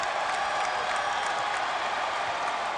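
Basketball fans in an arena stand and cheer late in a Penn State game, a dense, sustained roar of crowd noise and applause filling the space at steady volume.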